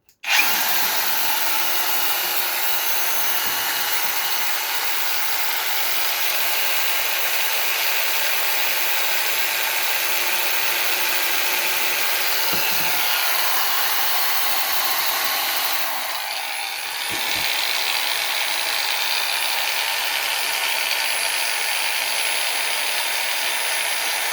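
Forte AG-21BC cordless battery angle grinder switched on and running steadily at no load, a loud, close high-pitched whine that holds for the whole stretch with only a brief dip near the end.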